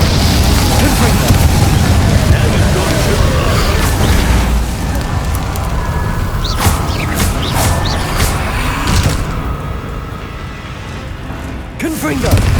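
Repeated booming spell blasts from the Confringo blasting curse in Hogwarts Legacy, loud and dense with battle noise, several sharp bursts toward the middle and end, with a voice calling out over the fight.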